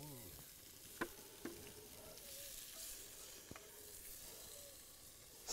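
Onions dropped into a pot with garlic over a campfire, with a steady broadband sizzle and a few sharp clinks of utensils against the pot, close and moderately loud.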